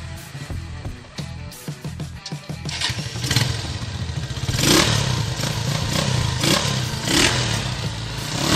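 Customized Honda Megapro motorcycle engine, restyled like a Yamaha XSR900, cranking with clatter and thumps before catching and settling into a close, steady idle with a few revs and brief rises.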